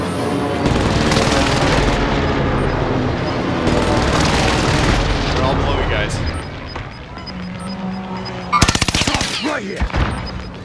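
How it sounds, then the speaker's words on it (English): A precision airstrike in a battle royale video game unleashes heavy bursts of rapid explosions and gunfire in loud waves, then a brief lull before a final sharp blast and crackling debris. "Allied precision airstrike incoming"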